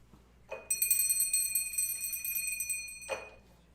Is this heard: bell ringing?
yes